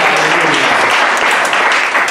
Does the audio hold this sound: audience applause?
yes